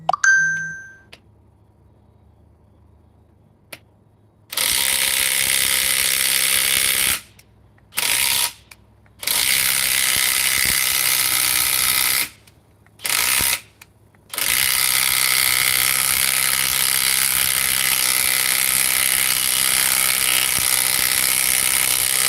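Regular 4 amp power tool working to loosen a fastener: after a faint ding and a few seconds of quiet, a loud sustained whine runs in long bursts broken by short pauses, close up with no talking.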